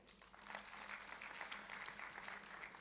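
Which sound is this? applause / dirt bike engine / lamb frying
applause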